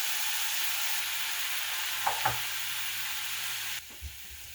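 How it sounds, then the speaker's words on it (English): Pineapple chunks frying in a hot pan, a steady soft sizzle running throughout with a couple of brief clinks partway, then the sizzle drops quieter near the end. "I'm going to put pineapple chunks in here."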